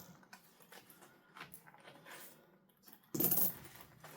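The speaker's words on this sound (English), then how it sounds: "I always forget to take the coins out when I do this." Coins handled during cash envelope stuffing, with faint clinks and rustles followed by a sudden loud jangling clatter as a handful drops together near the end.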